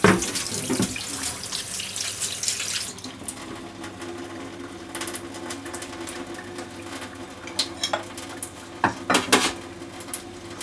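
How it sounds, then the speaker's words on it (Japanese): Running tap water rinses a kitchen knife and cutting board in a sink during fish filleting, a steady close hiss with a few clinks of utensils near the end. "匂いが残らないよう包丁やまな板も水で一度洗い流します。"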